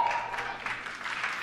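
An audience of professional Destiny players claps at the Destiny 2 gameplay reveal event, a short burst of crowd applause that fades slightly as it goes, with a voice faintly mixed in.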